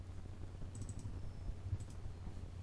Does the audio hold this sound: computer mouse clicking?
yes